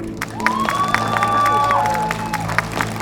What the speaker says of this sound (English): Keep clapping for Emma.